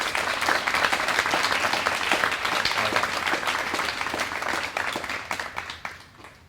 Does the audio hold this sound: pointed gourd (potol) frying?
no